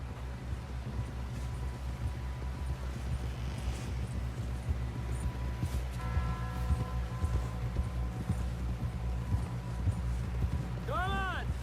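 Horse hooves clip-clop in a steady galloping rhythm in the video game Red Dead Redemption 2, running continuously under background game sound, with a whinny near the end.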